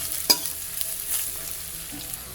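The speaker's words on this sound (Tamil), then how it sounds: "வெங்காயம் வதங்கிட்டோம்." Onions sautéing in a pan, giving a faint steady sizzle broken by a few light scraping stirs.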